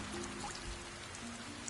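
Light rain patters softly in the video game Sky: Children of the Light, a faint steady hiss of drops for a brief moment.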